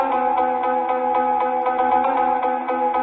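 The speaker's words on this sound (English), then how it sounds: "And then we have our intro cowbell" A cowbell with heavy reverb plays the intro of a phonk house track, striking a steady run of evenly spaced, bright metallic hits with a sustained, washy ring that fills the gaps between them.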